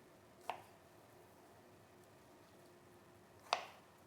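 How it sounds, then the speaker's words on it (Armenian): A kitchen knife cuts large fresh strawberries into chunks, giving two soft, separate thunks about three seconds apart over a quiet room, with no talking. "քանի որ իմ մոտ ելակները շատ մեծ են, ես մի քանի մասի այսպես կկտրատեմ"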